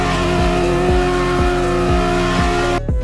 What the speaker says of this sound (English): Are you tired of drifting like this?